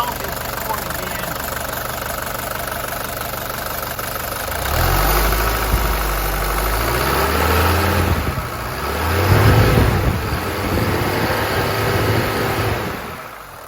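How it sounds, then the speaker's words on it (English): A Mercedes-Benz 640D with an OM617 turbo diesel engine idles with a close, steady clatter that swells into a couple of brief revs midway before settling again. "That's the sound of a healthy 640D engine."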